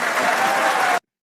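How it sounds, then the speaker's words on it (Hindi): Studio audience applauding in a dense, steady burst of claps for about a second after an India–Pakistan T20 World Cup match, then cutting off abruptly into silence. "एक बार बेटा तालियां बजा के"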